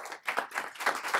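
Clapping at a political meeting of a communist party, heard as a few irregular bursts of hands with brief gaps between them rather than a full sustained ovation.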